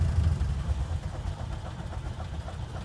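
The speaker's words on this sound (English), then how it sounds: "There we go, it's idling right where it should be." A 1928 Ford Model A engine idles at about 500 RPM, a low, steady rumble close by, even and continuous with a faint rhythmic pulse.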